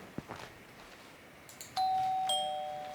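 An electronic doorbell chime at a home rings once loudly and close, a sustained two-tone ding ringing out and slowly fading, preceded by faint knocks and shuffling.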